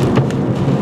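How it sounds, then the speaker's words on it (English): A thunderstorm in Montcalm County, Michigan, brings a loud, close wash of heavy rain and a deep rumbling low roar from thunder, dense and unbroken across the brief moment. "this is a pretty good storm"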